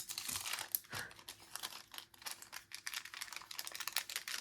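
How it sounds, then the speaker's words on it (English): Scissors cutting through planner paper, a quiet run of rapid crisp snips and crinkles close up, continuing steadily with no talking. "I'm going to cut."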